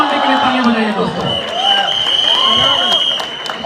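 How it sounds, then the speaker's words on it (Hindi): An indoor audience applauds and cheers for the guest Divay Agarwal, known as Khuni Monday, with loud continuous clapping and a voice talking over it throughout. "Khuni Monday के लिए तालियां बजाइए दोस्तों"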